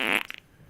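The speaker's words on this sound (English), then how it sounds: "Do the fart sound." A push-button sound-effect gadget lets out a single loud, raspy fart lasting about a fifth of a second, trailing off into a few short sputters and then quiet.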